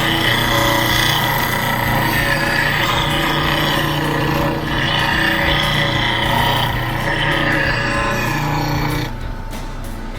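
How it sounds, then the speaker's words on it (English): A bench grinder with a white aluminum oxide wheel runs steadily and loudly while a roughing gouge is sharpened against it, a constant motor hum with rasping grinding contact throughout, easing slightly near the end. "So let's turn the grinder on and I'll show you how to sharpen this."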